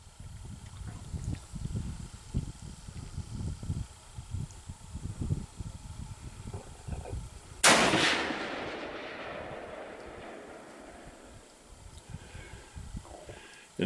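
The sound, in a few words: gunshots from a Savage 99 .308 rifle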